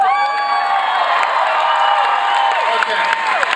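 An audience cheers loudly and steadily, a dense wall of crowd shouting and whooping with some clapping, all close and sustained without a pause.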